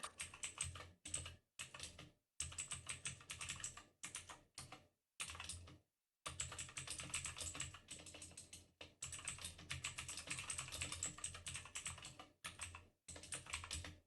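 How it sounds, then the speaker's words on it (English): Bursts of fast typing on a computer keyboard during a coding session, quiet and close, with short pauses between runs of rapid key clicks and no talking. "Some mad typing skills."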